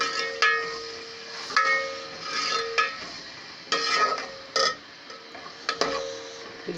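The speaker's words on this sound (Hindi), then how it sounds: "इसमें मैं अब अदरक लहसुन का पेस्ट डाल रही हूँ। अब इसको मैंने 2 से 3 मिनट तक भूनना है।" A spoon stirs and scrapes ginger garlic paste frying with browned onions in a pot, producing intermittent metallic clinks and scraping strokes at irregular intervals over a quiet sizzle, fairly close.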